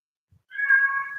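A domestic cat gives a single clear, drawn-out meow close by, asking to be fed, after a moment of near silence.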